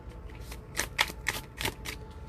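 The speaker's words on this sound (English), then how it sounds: "Get some cards from this deck." A deck of cards being shuffled up close, a series of quick crisp riffles and snaps in a short burst.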